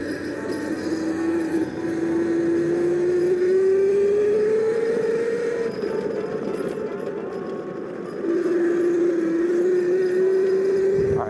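A property vehicle climbs a steep, slippery gravel hill road, its engine holding a steady, rising whine under load that dips briefly partway and then resumes, close and fairly loud throughout.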